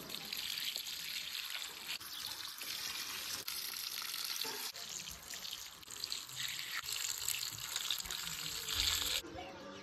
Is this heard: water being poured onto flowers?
yes